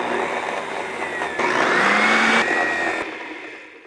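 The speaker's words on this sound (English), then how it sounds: "Blend this up so it turns into a coconut syrup." Blendtec blender on cocktail mode blending coconut syrup, a steady loud motor whir that swells midway and then winds down at the end.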